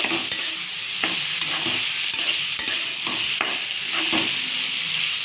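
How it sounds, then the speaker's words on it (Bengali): Khichuri cooked with mutton fat and prawns being stirred in a pot, a steady frying sizzle with regular scraping strokes of the spoon, close and loud, with no talking. "খিচুড়িটা একটু নেড়ে চেড়ে দিচ্ছে।"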